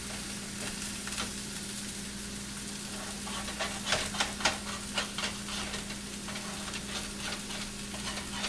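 Bacon sizzling in a pan, a continuous close crackling fry with scattered pops and occasional scraping or tapping from a utensil, steady throughout.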